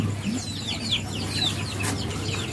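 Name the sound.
muscovy ducks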